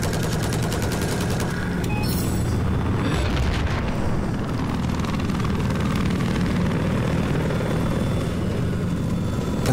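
A helicopter drones steadily and loudly throughout a video game battle, its rotor noise mixed with bursts of gunfire and explosions, with no one speaking over it.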